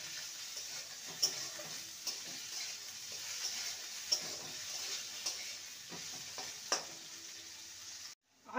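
Potato and carrot pieces fry in a pan with a quiet, steady sizzle, broken by occasional sharp taps of a stirring spoon against the pan at irregular intervals, fairly faint and close.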